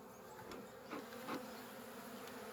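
Honey bees buzz steadily around an opened hive during a frame inspection in Belarus, a dense, agitated drone close to the listener with brief swells in loudness and no voices.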